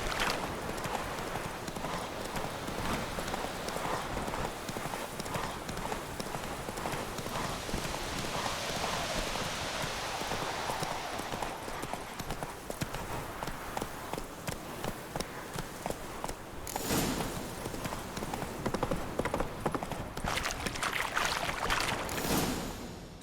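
Horse galloping in The Witcher 3 video game, a steady, fast, rhythmic clatter of hooves that runs throughout, with brief whooshes of wind and movement layered over it and no voices.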